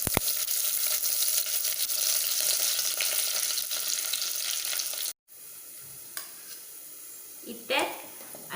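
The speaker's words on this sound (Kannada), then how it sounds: "ಪಟ ಪಟ ಪುಡವಡು ಸಾಸಿವೆ" Mustard seeds splutter and crackle in hot oil for tempering, a loud, busy sizzle for about five seconds. It cuts off abruptly and gives way to a quieter sizzle with a brief voice near the end.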